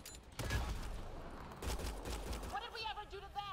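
Hip-fire gunfire in Mass Effect Andromeda on PC: two clusters of rapid, fairly quiet shots pop in quick succession, with someone talking and game voices coming in at the end.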